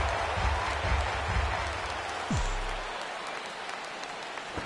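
Crowd applause and cheering from the video game MLB The Show 16, a broad wash of clapping with a low murmur underneath and a short sliding tone partway through, heard alongside commentary speech.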